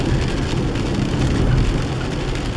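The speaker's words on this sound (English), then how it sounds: "Wanted to give you a sample of the rain in the rainforest." Steady rain falls in a Pacific Northwest coastal rainforest, a dense continuous hiss with a low rumble that may be a passing car or aircraft, loud and unbroken throughout.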